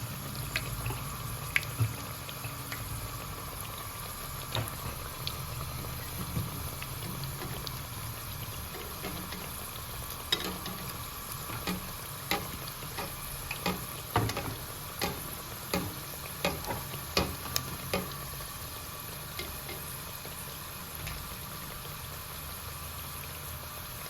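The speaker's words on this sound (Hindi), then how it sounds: "देखिए फ्राई हो रहा है आस्ता आस्ता" Samosas frying slowly in oil, a low, steady bubbling hiss with irregular soft pops and crackles across a long stretch, close but fairly quiet, with no voices.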